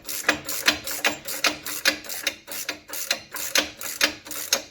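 A rapid, steady train of sharp mechanical clicks, about three per second, sounds loud and close as bolts are run down and torqued on a new rear end for a Duramax truck, with no voices over it.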